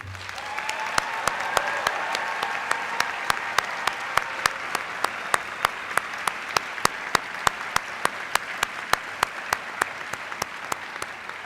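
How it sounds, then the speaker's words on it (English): A large audience at a graduate honors convocation applauds the honors students in a steady, dense burst of clapping that keeps an even level throughout, with sharp individual claps standing out over the crowd. "Will you please join me in applauding them?"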